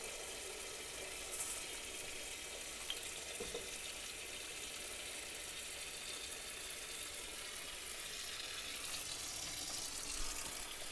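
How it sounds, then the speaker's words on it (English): Tap water runs steadily into a cooking pot holding chicken for homemade ramen soup, a continuous hissing splash heard close and alone for the whole stretch. "So while this is filling with water"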